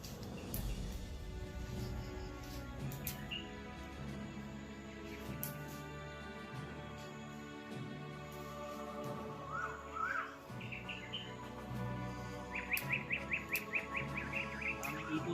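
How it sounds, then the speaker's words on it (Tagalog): Mountain birds chirping outdoors, scattered short calls and a quick run of repeated notes near the end, set against a steady background hum and rustle. "Yan ang ibon ng bundok."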